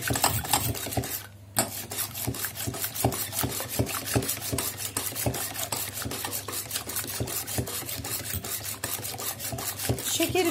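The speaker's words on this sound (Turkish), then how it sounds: "Yumurtaları kabımıza aldık. İyice çırpalım." Eggs being whisked in a bowl for a spinach cake, a steady rapid rhythm of light clicking scrapes repeating evenly for about ten seconds after a brief pause near the start, close and fairly quiet, with no talk.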